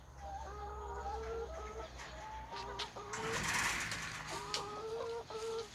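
Several hens cluck close by in short, repeated bursts on a farm while being fed, with a steady low hum and a brief rustle in the middle.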